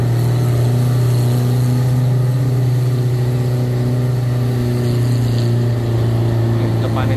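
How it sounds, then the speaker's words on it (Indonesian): A jeep engine drones loudly and steadily climbing a steep hill road from Kemuning Sky Hills to Candi Cetho, a strained low hum with a persistent tone, sounding close and continuous. "kita dengar suara mesin mobil yang meraung-raung ya, karena tanjakannya cukup terjal ya"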